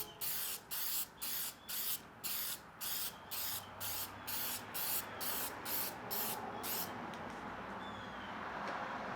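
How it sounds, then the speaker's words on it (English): A wooden piece for dice gets coated with spray lacquer from a can: about a dozen short, loud hissing bursts in a steady rhythm, then a longer continuous spray fading into soft room noise. "For a finish, the whole thing gets a few coats of spray lacquer."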